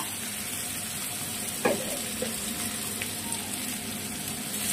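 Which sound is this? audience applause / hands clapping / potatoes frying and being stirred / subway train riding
potatoes frying and being stirred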